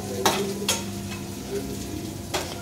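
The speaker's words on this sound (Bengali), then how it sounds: "আমি আলুটা একসাথেই ভেজে মশলা কষিয়ে একবার দিয়ে দেব।" Potatoes fry with spices in a pan, the constant sizzle broken by a few sharp scraping strokes of a spoon against the metal.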